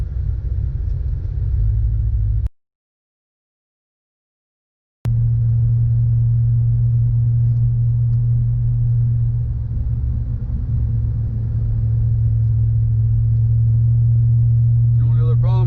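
A supercharged Cadillac CTS-V runs on a hot day, its engine a loud, steady low drone heard from inside the car. The sound cuts out briefly to silence, then returns and holds evenly to the end.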